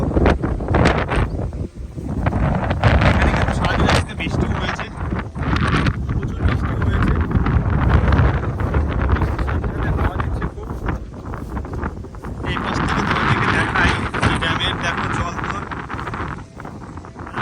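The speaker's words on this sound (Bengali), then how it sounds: "তো প্রচণ্ড হাওয়া দিচ্ছে প্রচণ্ড" Strong gusting wind roars across a hilly spot with rain-fed waterfalls and wave-tossed water, a dense, steady rush of buffeting noise pressing on the microphone for the whole stretch, swelling and easing slightly without pause.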